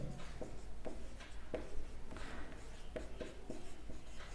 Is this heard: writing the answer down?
yes